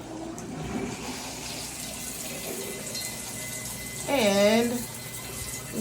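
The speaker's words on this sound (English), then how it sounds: "So see, water's coming through." Water runs from a freshly repaired shower head in a steady soft hiss, close and moderate, with a brief squeaky whine from the fixture partway through and a voice speaking briefly.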